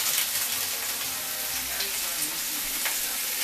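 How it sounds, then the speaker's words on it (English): Broccoli and cauliflower saute in hot oil in a pot for a stir fry with black rice, giving a loud, steady close sizzle with occasional stirring scrapes. "I'm going to saute up our broccoli and cauliflower in it"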